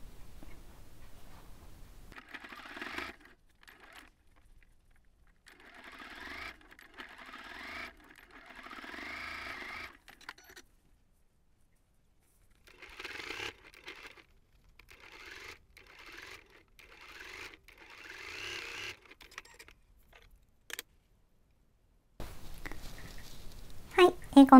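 A sewing machine stitches the ends of a fabric pouch made with Daiso supplies, running in several short bursts of rapid mechanical whirring with brief pauses between them, followed by some handling rustle at the end.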